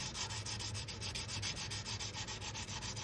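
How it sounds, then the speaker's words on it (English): Steady, fast back-and-forth rasp of 120 grit sandpaper on a 1/400 scale model ship hull of the SS France, close and continuous with an even rhythm. "So that was, I believe, 100 grit that I was using. Now I'm on 120."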